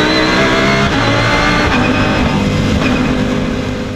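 An Audi car's engine roars loud and close as it pulls hard around a race circuit during a driving course, giving a continuous dense drone with no pauses.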